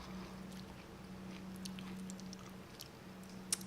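A person chewing food close up, with faint, soft, intermittent mouth sounds and small crunches over a steady low hum.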